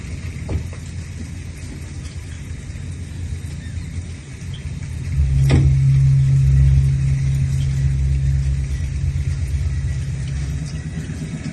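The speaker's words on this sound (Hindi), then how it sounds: "देख कर गाड़ी चलाओ पापा।" Car driving along a rough road through a forest area, a steady low engine rumble that swells louder partway through, with no one talking.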